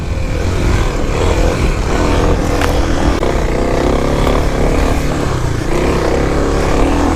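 A 2021 Kawasaki KLX300 dirt bike churns through mud on a single-track trail on poorly gripping tires, its engine a steady, loud, close roar that holds for the whole stretch.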